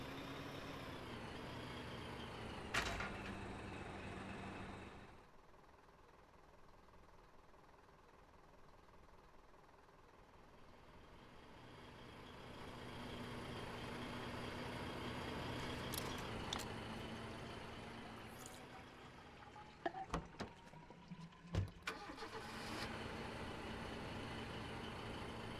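A truck engine in the war game Foxhole, a steady droning idle with low hum, dipping quieter mid-way then rising again, with a few sharp clanks and clicks near the end; no talking.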